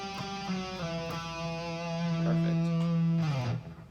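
A synth-lead solo phrase is played on a distorted electric guitar, a few quick notes leading into a long sustained bending tone that fades out, with nothing else playing.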